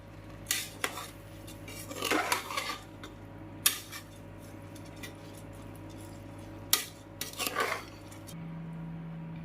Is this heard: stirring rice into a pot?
yes